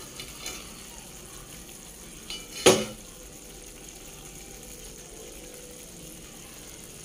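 A pot lid is set down over a pot of sarciadong malunggay cooking for a baby, a single brief clatter midway through an otherwise quiet kitchen background.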